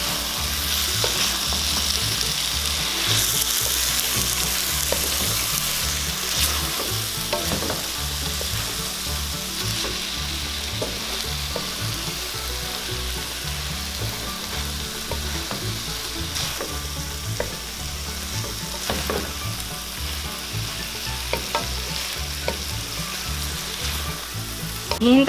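Ampalaya, tofu and egg sizzle steadily in a hot pan while being stirred, a continuous close frying hiss with irregular scraping and clinking from the stirring utensil, no talking.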